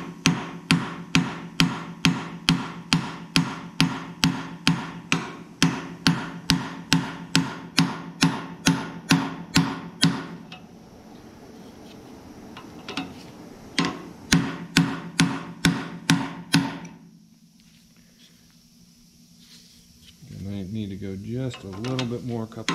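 A hammer taps a driver onto a bushing during front spindle repair on a 1970 Minneapolis Moline U302 tractor, with a long even run of sharp metallic taps, a pause, a second burst, then speech.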